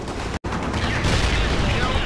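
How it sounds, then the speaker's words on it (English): Heavy gunship weapons fire in the World in Conflict battle game, a dense continuous roar of guns broken by one brief silent gap, loud and close. "the gunships fire all guns, now"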